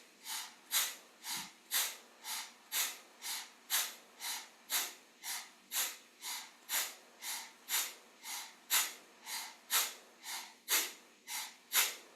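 Rapid, forceful breaths through the nose in a Kundalini yoga spinal energy kriya, an even pumping rhythm of about two breaths per second, close and fairly quiet, with no talking.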